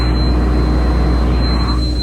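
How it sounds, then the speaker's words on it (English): A 2014 Hitachi ZX250-5 LC excavator diesel engine revving, heard as a loud, steady low drone with a whine that stays fairly constant over the short stretch, no speech. "If you rev it up, it revs up just fine"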